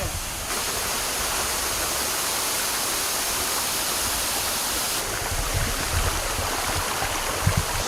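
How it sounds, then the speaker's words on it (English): A Caribbean waterfall pours down in a steady, loud, broadband rush of falling water that fills the whole stretch with no breaks, close to the listener. "We're gonna go up to the waterfall."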